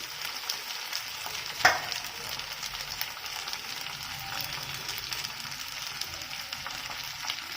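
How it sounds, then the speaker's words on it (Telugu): Fish pan-frying in oil over a low flame, a continuous close hiss and crackle that holds steady, with one sharp clink of a utensil early on as the fish is turned. "తిప్పుతూ పైన ఆయిల్ వేసుకుంటూ ఫ్రై చేసుకోవాలండి."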